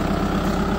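Kubota MU4501 4WD tractor engine runs steadily at high revs, a loud, continuous low diesel-like drone with an even throb and no pauses.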